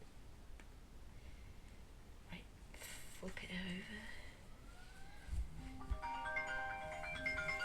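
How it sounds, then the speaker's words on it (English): A phone ringtone for an incoming call rises softly toward the end, its melodic tones faint beneath quiet, close talking. "I'm ringing. Who's calling me?"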